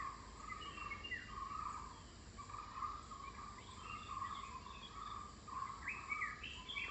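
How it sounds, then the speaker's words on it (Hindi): Birds call and chirp outdoors in a quiet natural setting, a steady scatter of small repeated notes at moderate distance over a soft constant background hiss, with no talking. "इन परिंदों की आवाज़ें जीवन में कितना रस घोल देती हैं"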